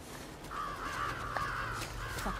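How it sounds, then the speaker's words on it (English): In the video game The Last of Us Part II, a crow gives a couple of rasping caws, moderately distant and fairly faint, against a low, steady ambient rumble. "Shut up, crows."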